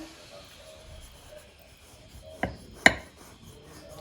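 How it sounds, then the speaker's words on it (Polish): A knife slices through a piece of warm, soft orange babka cake made from whole oranges, giving two short, close cutting strokes over a quiet kitchen background. "Przekroimy kawałek. Kroimy."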